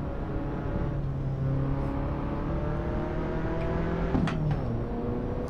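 A car engine in the Assetto Corsa racing game revs and drops in pitch through downshifts while braking, a steady droning whine with a sharp blip of revs near the end, with no speech.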